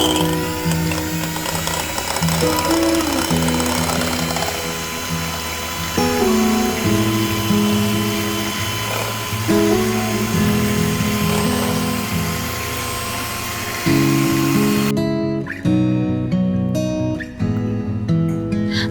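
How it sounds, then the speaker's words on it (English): An electric mixer whisks eggs for a first birthday cake, giving a loud, continuous motor whir with a rattling, ratchet-like texture that shifts in pitch now and then as the beaters move through the bowl, with no talking. "I'm going to use this electric mixer to whisk the eggs before adding anything."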